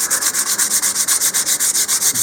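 Sandpaper of 100 to 150 grit is rubbed over the seam of a model rocket nose cone in quick, even back-and-forth strokes, about eight per second, close and loud with no voices.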